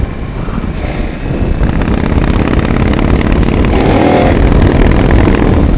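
Motorcycle engine revving steadily and loudly during a small wheelie on a Chicago moto trip, the roar rising after the first second and holding strong with no voices.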